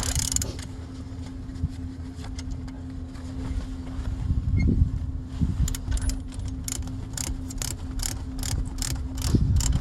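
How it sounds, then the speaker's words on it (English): X chocks on a camper trailer are cranked tight, giving soft ratcheting clicks and metallic turning noises over a low steady hum, with scattered knocks toward the end. "And we just crank them until they just kind of snug up a little bit."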